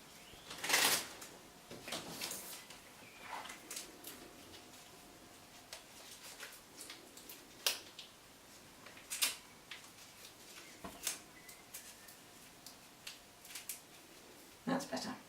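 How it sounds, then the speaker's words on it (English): Masking tape handled and pressed over the end of a willow stick while making a bug lantern: quiet, scattered crinkly rustles and short tearing bursts, with a sharper crackle near the start and another near the end. "I'm going to put some masking tape over the end of that to make it blunt"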